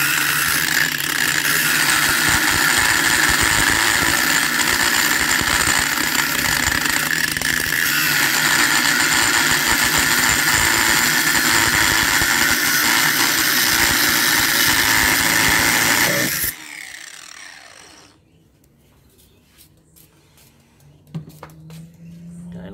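An angle grinder cuts through the casing of a large water pump during scrapping, a loud continuous rough whine that runs for about sixteen seconds, then stops abruptly, leaving faint clinks and handling noises.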